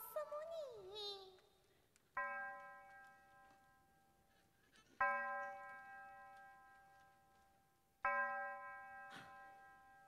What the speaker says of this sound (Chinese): 你听，这钟声好像在轻唤我们呢